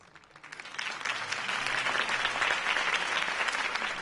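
Crowd applause in a video game after a Harvey Dent campaign speech: many hands clapping steadily, swelling in over the first half second and holding full and dense to the end.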